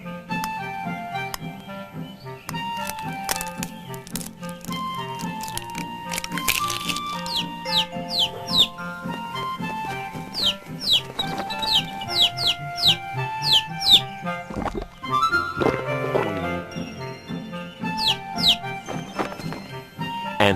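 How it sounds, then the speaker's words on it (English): Cartoon birds and chickens chirp and cluck in quick, repeated calls over bright animated music, a lively chorus of short bird sounds layered with melody. "There were birds,"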